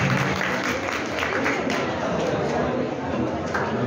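An audience at a school science-club event marking Albert Einstein's birthday applauds second-prize winners, with steady, dense clapping throughout and voices chattering underneath.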